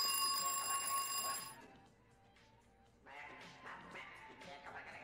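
Telephone ringing in Garry's Mod, a bright electronic ring that sounds briefly and loudly at the start, then cuts off, followed by quieter scattered noises.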